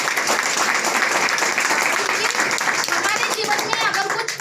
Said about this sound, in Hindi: सर के लिए एक बार जोरदार तालियां।